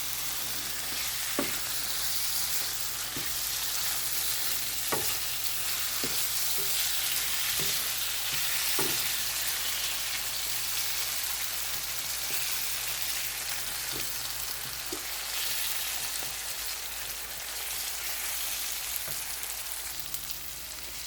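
Ground beef and tomatoes fry in a pan with a steady, close sizzle, punctuated by occasional soft scrapes and taps of a utensil stirring through the browned bits; no one speaks.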